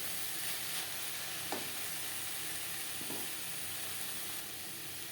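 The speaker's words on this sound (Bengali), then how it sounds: "এক দু মিনিট নাড়াচাড়া করে নেওয়ার পর গ্যাসের ফ্লেমটা অফ করে দেব" Taro leaves with slit green chilies frying in a pan, a soft continuous sizzle with a couple of brief stirring knocks, close but quiet, no talking.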